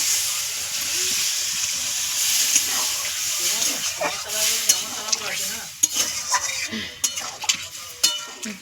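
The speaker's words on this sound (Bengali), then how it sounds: "কষানা হয়ে গেছে এবার আমি জল দিয়ে দেবো" Water added to a sautéed bottle gourd curry in a hot pan: a loud hissing sizzle that breaks into bubbling, with spoon scrapes and pan clatter, close by, and a voice briefly audible.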